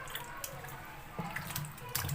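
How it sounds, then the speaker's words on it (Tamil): Vegetables bought at a market are washed in water, making faint, close splashing and dripping sounds with a few sharper splashes near the end. "இப்போ நம்ம வாங்கிட்டு வந்த காய்கறிகளை வந்து கழுவி வைக்க போகிறோம்."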